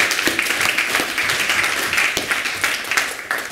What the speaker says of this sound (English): Can I have a round of applause for the development team